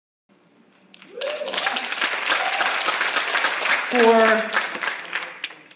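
An audience at a talk breaks into applause, a dense, sustained clapping that swells for several seconds and then fades, with a voice speaking briefly near the end.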